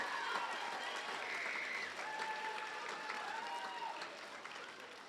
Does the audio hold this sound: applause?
yes